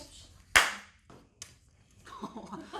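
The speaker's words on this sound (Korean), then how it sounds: "PD가 박수 치라고 안 했는데 박수 친 사람 처음 봤어 진짜" A single person claps during a Korean talk show, one sharp loud clap followed by a couple of softer ones, with voices talking afterward.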